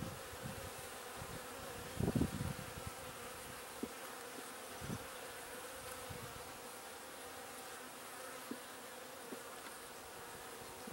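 Honey bees buzz steadily around an open hive while a nuc colony is installed, a dense insect drone with a few louder passes of single bees flying close, and no talking.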